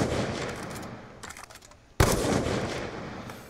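Black Ops II gunfire rattles in rapid bursts, fading to a lull before a sudden loud volley resumes and continues steadily to the end.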